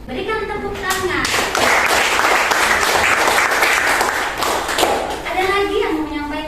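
A high-school classroom breaks into a burst of dense clapping that lasts several seconds, bracketed by a teacher's voice speaking before and after.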